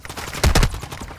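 Gunfire in the video game Call of Duty, a brief burst of shots swelling loud midway through a short stretch of combat noise.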